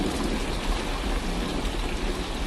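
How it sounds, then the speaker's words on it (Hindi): Steady heavy rain with hail pelting down on farm crops in a storm, a dense, continuous hiss and patter that fills the whole stretch at an even level with no voices. "कुछ ही देर में बारिश के साथ साथ ओले भी गिरने लगते हैं।"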